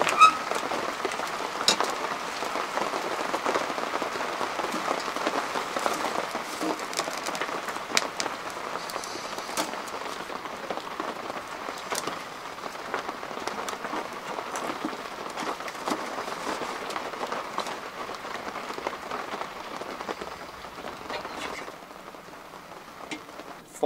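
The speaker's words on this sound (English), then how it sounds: "it's quite heavy rain" Steady heavy rain pattering on a military arctic tent overhead in winter woodland, dense and continuous, with no voices.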